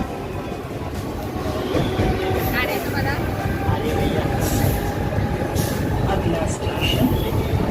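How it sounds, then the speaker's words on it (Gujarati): Riding a Mumbai local train: a continuous loud rumble and rattle of the carriage in motion, with passengers' voices heard over the steady clatter. "મુંબઈ લોકલ ટ્રેનમાં થોડી સફર."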